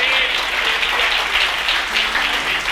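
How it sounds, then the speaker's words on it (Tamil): An audience at a church Bible study breaks into steady, full applause, close and fairly loud, sustained evenly across the whole stretch with faint tones underneath. "கைத்தட்டுங்க ஒரு அவருக்கு"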